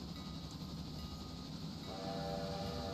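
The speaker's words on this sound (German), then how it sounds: "Also die Züge machen ganz schön Lärm hier." Trains in the Railroader game, pulling A-26 Atlantic locomotives, rumble and roll steadily at low level, with a sustained horn-like tone joining near the end and no talk.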